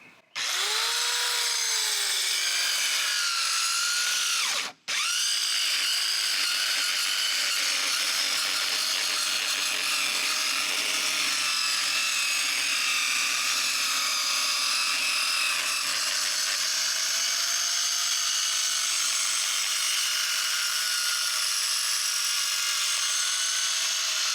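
A cheap mini circular saw rips along a board, a loud sustained whine that winds up, cuts out briefly and then runs steadily through the wood for over twenty seconds, with no talking.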